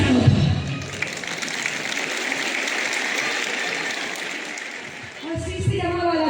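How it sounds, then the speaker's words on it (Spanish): An audience at an All Saints' Day chestnut roast gathering in a village bursts into sustained, dense applause that swells and then tapers, with talking and voices at the start and again as the clapping fades out. "¡Aplauso para otro!"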